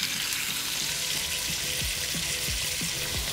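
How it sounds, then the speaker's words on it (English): Chicken frying in a little hot oil in a pan, a steady, fairly faint sizzle with soft crackles and a few low thumps as pieces settle. "I'm gonna add in a little bit of oil. All right, let's get everything in there sizzling."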